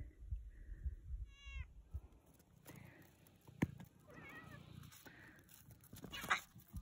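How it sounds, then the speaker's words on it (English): Domestic cats waiting for food give several meows, one rising call early then more mews later, mixed with shuffling, a sharp knock and household rustle, fairly quiet and close. "My kitty cats are ready"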